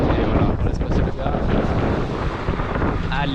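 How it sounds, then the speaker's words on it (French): Strong wind buffets the microphone on a hilltop lookout during a hike to a weeping rock, producing a loud, continuous roar and rumble that stays steady for the whole stretch. "il y a vraiment pas mal de vent en haut"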